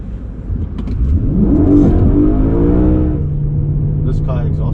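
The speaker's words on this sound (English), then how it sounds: "This car exhaust is absolutely standard from the factory." A stock-exhaust BMW E92 M3 revs hard, engine note climbing and falling through a loud sustained sweep before settling to a steady idle, with a person speaking over it.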